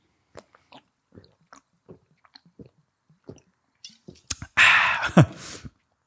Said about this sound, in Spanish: voy a hacer antes un trago de agua dramático para que te lo pienses